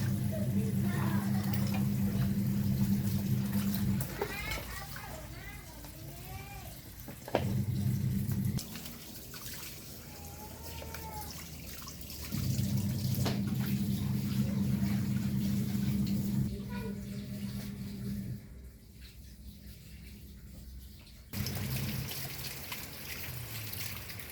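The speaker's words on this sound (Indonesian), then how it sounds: "Lagi saya cuci ya supaya bersih." Tap water runs in steady bursts while cut chicken pieces are washed in a home kitchen, with pauses between streams and talking over much of it.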